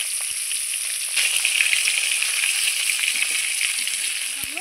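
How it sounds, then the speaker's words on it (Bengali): Katla fish heads sizzle as they drop into hot oil, a steady broadband frying hiss that swells slightly after the first second and holds constant, with faint scattered crackles and no talking. "তেল গরম হয়ে গেছে, এইবার আমি মাছের মাথাগুলো ছেড়ে দিচ্ছি।"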